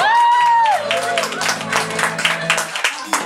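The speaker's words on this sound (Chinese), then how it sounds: "哎，再次给他掌声鼓励一下。" Audience clapping breaks out in a small live music venue during a band's set, a dense patter of many hands that follows a brief voice at the start and carries on steadily to the end.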